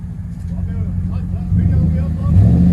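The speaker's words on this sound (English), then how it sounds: "But there's the muffler that we cut off. Man, that sounds good." A Chevy/GMC 5.3L V8 with its muffler cut off rumbles deep and loud, swelling twice as the throttle is blipped, while a voice talks over it.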